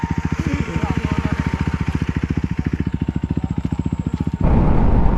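A KTM RC 390 motorcycle running with its exhaust removed pops out a loud, rapid, evenly pulsing idle close by for over four seconds, then the beat cuts off into a rough, broadband roar.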